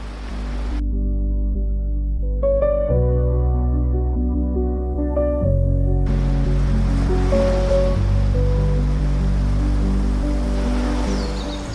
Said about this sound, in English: children still grow up surrounded by the sound of waves